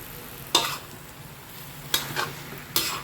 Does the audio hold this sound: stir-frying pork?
yes